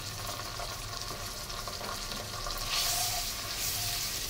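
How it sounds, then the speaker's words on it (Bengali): A spice paste of ginger, garlic and cumin sizzles steadily in hot oil while being stirred for a Bangla chili pickle, a close, continuous frying hiss with scraping movement swelling slightly near the end. "ভালো করে নেড়ে চেড়ে মশলাটাকে কষিয়ে নিতে হবে।"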